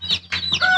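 Baby chicks inside a box, peeping and chirping loudly and close up in quick bursts of shrill, high calls.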